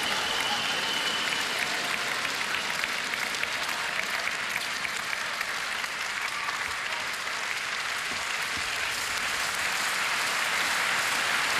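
A table tennis arena crowd at a China versus Germany world championship match applauds in a continuous, loud wash of clapping that holds steady throughout without a break.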